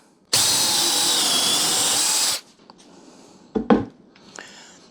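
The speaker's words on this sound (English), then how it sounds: "If you got 2 drills, use 2 drills, Dave." A power drill driving screws runs loud and steady in one long burst for about two seconds, then cuts off, followed by a couple of brief rustling, handling knocks.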